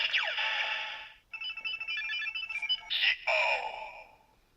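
A short, bright electronic jingle from a Kamen Rider Zi-O DX Ziku Driver toy belt, chirpy synthetic tones rising in quick bursts, then fading out, with no voices.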